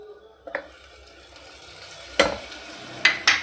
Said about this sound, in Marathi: यात आपण टाकूया आता टोमॅटो